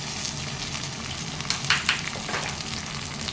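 Chopped onion fries in a pan for fenugreek-leaf rice, a dense continuous sizzle close by with a brief stirring scrape midway, no talking.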